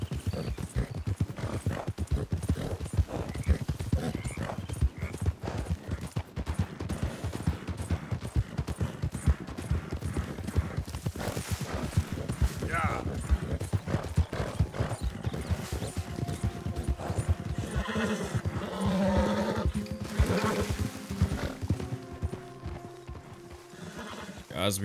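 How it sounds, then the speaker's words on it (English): Horse hooves clip-clop steadily with occasional neighing while riding in the video game Red Dead Redemption 2, a rhythmic near clatter lasting throughout under other game sounds. "Guys, we have an extra horse."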